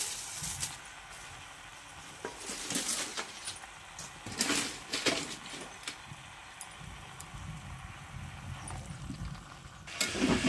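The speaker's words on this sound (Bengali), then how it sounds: "মাংসটা কিন্তু অনেকক্ষণ ধরে নাড়া হচ্ছে।" Meat for a home-style curry being stirred in a pot over a clay stove, with a soft irregular scraping and shuffling, faint and close, with occasional louder clacks of the spoon and no talking.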